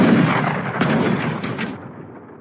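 Explosions and gunfire from a battle in the Age of Empires III: Definitive Edition campaign Blood, Ice and Steel, as units attack weapon caches. Two loud, broadband blasts land close together over a steady bed of rumbling battle noise.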